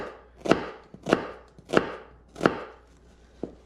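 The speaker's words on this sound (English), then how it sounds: "you're going to make one cut lengthwise down the shallot just like that, and then several cuts the opposite way" A knife chops a shallot on a cutting board in five crisp, evenly spaced thunks close up, with a quieter final cut and no talking.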